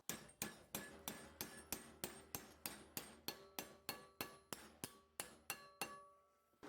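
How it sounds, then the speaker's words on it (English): A metal part clamped in a vise is struck by a hammer in a steady series of about sixteen loud, ringing blows at an even pace, each hit decaying briefly before the next. "I'll use a hammer to bend it down to a 90-degree angle."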